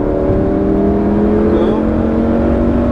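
A Ferrari 458 or Lamborghini Gallardo accelerating out of a corner on a racing circuit, a loud close sustained engine drone with steady harmonic tones, a voice talking over it.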